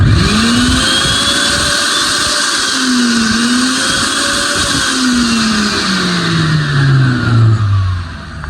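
A Super Crest Power 1000 g dry spice grinder with a 3000 W copper motor runs at high speed, a loud, steady motor whine with pitch shifts as it spins up and down.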